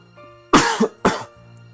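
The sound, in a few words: character coughing in video game The Letter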